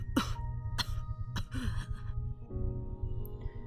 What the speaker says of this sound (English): Mother Elder lapses into a coughing fit.